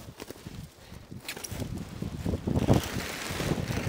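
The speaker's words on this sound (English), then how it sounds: "as soon as you go near the silage pit, the wind picks up" Wind gusts at a farm silage pit being resheeted, a rough blustery rush of noise on the microphone that swells and grows stronger toward the end.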